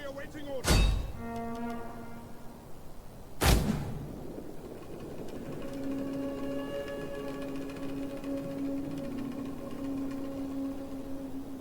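Field artillery in a Total War game fires two heavy booming shots about three seconds apart, loud and close, followed by a sustained tonal hum of game ambience.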